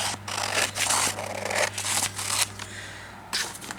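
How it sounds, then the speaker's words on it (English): Scissors snip through paper during junk-journal crafting with lace and vintage materials, a run of close, quiet crisp cuts and scraping strokes in irregular bursts over a low steady hum. "I'll cut this piece off so I can"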